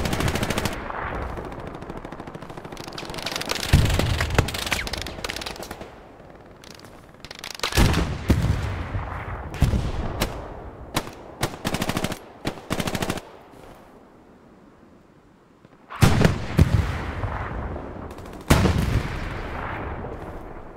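Repeated bursts of machine-gun and rifle fire from the World War II shooter Hell Let Loose during a hectic defense, loud close volleys separated by short lulls, with booming heavier shots mixed in.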